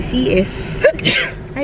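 A single sharp human sneeze bursts out in the middle of speech, with people talking just before and after it.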